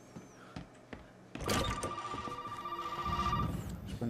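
A telephone rings in the Resident Evil 7 video game, a steady electronic bell tone sounding for a couple of seconds after a few soft footsteps, heard fairly clearly in a quiet, eerie room.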